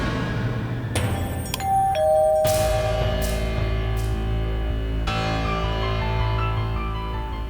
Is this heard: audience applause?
no